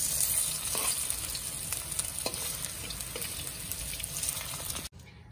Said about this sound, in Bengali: চালের গুঁড়ো দিয়ে ভেজে নিচ্ছি